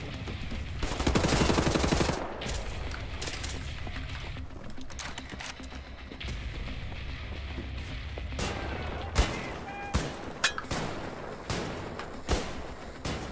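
Gunfire in the shooter game Wolfenstein: The New Order, with a loud burst of rapid shots followed by several separate heavy shotgun blasts.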